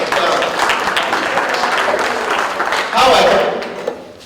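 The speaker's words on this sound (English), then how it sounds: "Let's have a nice round of applause." An audience at a community meeting in an elementary school claps together in a full, steady round of applause that swells briefly before fading out at the end.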